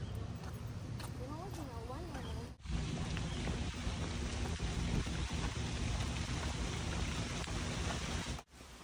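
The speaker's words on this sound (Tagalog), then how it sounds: "Bumuhos na yung ulan." Heavy rain pours down in Virginia Hilton Park during a summer walk, a steady wash of rainfall throughout, with bird chirps early on and voices faintly underneath.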